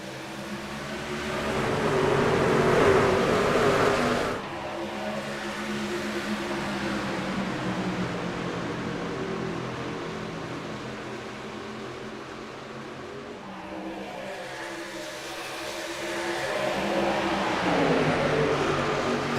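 Race trucks in iRacing at a Las Vegas charity race pull away on the green flag, a dense roar of engines that swells at the start, dips, and builds again.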